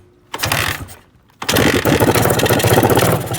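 A Suzuki TS250 motorcycle engine being kicked over after a rebuild: a short mechanical churning burst, a brief pause, then a louder sustained rough cranking and sputtering that carries on to the end, close and loud with no talk.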